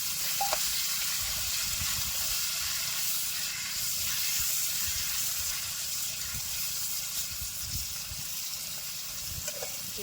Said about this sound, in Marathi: आता हे कांदा आणि तांबाट कोथमीर तळून घेणार आहे आपण